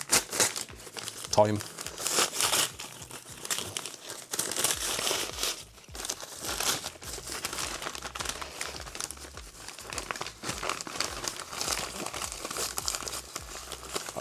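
Plastic packaging torn open and crinkled against stuck bubble wrap, a long run of close, busy crackling and tearing rustle under a person's talking.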